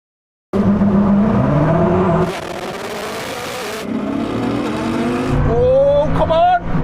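Loud engine roar from hypercars launching in a drag race, a Bugatti Chiron Super Sport against a Koenigsegg Jesko on a dusty surface, revving and rising in pitch with tire noise, under an excited voice.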